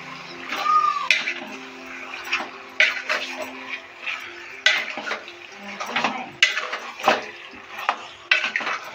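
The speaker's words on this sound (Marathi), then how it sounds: "आता ते पूर्ण मिक्स करून घेऊया." Chicken pieces being stirred in a metal pot for chicken masala, with repeated sharp clanks and scrapes of the spoon against the pot at an uneven rhythm, close and fairly loud, with no talking.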